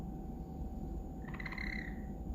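A young backyard chicken gives a brief, faint trilling chirp, a quick rising warble that rides over a steady background hum and hiss.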